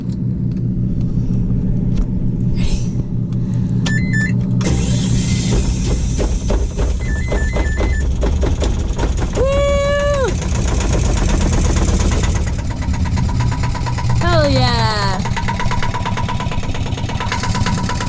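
A Bukh DV10 marine diesel engine cranks with a starter motor, catches and settles into a loud, steady rumbling idle close by, with a few brief squeaks and whines partway through and no talk.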